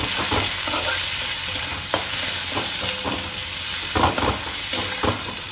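Onions and five-spice (panch phoron) tempering fry in hot oil with a steady, close sizzle, broken by the scrape and clatter of stirring throughout.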